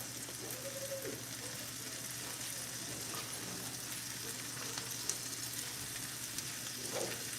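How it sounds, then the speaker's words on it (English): Breakfast frying in a pan gives a steady, close sizzle that crackles throughout, with faint voices in the background. "Scott's cooking our breakfast"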